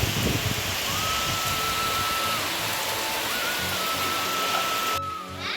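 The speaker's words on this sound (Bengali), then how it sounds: "আর দেখো কি জোরে যে বৃষ্টি হচ্ছে বলার কথা না" Heavy rain pours down steadily in a waterlogged neighbourhood, a loud continuous roaring hiss without pause, with a thin whistling tone drifting above it and no voices.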